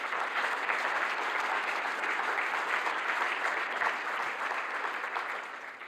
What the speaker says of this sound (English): A big applause for ZBW.